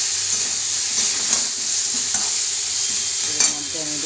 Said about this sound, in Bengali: এবার কিছুক্ষণ আলুটার সঙ্গে কষবো।